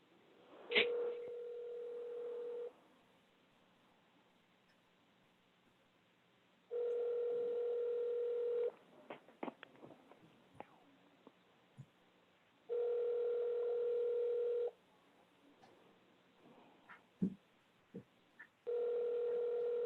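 A phone call is dialed and rings unanswered: a short tone burst, then repeated two-second ringback tones separated by long gaps, faint clicks and small noises between, no voices.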